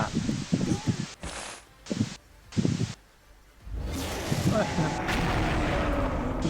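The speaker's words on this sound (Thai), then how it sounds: "ใครปาระเบิดอะไรกัน" Sharp bursts of gunfire ring out in a video game, followed by a heavy rumbling grenade blast and crackling debris that keep going steadily to the end.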